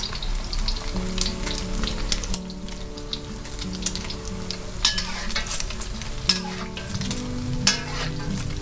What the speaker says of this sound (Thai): ให้เราตักน้ำมันขึ้นมา ลาดตรงกลางไข่แบบนี้นะคะ มันจะช่วยทำให้ ไข่สุกได้ง่ายขึ้นนะคะ